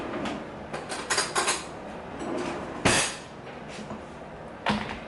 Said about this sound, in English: scrape out the seeds and the stringy bits in the middle